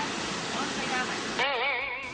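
Ocean waves roll in along a Maldives shoreline: a steady, loud broadband surf roar runs throughout, and a wavering tonal sound rises over it near the end.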